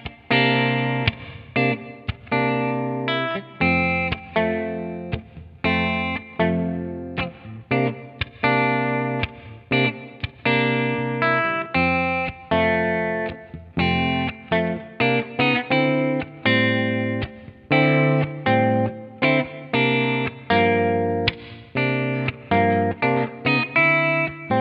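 An electric guitar plays picked chords and single notes through a TC Electronic Hall of Fame reverb pedal with its controls set at noon, the effect switched on so each note rings out with a lingering tail.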